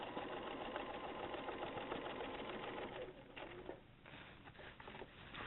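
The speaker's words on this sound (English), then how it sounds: "And then you're going to sew across." Domestic sewing machine stitching an X across fabric: a steady, fast mechanical whir throughout, close and moderately quiet, with a slight change in texture near the end.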